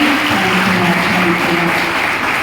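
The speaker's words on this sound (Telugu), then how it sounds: "అందరూ ఒకసారి చప్పట్లు కొట్టి దేవుని స్తుతించండి" A church congregation clapping hands together in praise, a dense, continuous burst of loud applause filling the whole space with no voices standing out.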